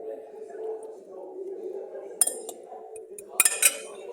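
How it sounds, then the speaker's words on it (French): Spoon handle tapping against a jar or glass to push food down, a few sharp clinks, a single tap then a quick cluster of three, over a low murmur of kitchen background. "Faut pas hésiter à taper ou avec un cul de cuillère, parce que ça va jamais descendre jusqu'en bas."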